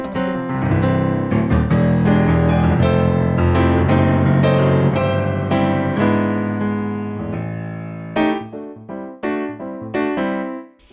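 A Yamaha P-145 digital piano plays a lively run of notes and chords, full and steady at first, then breaking into detached, punctuated phrases toward the end.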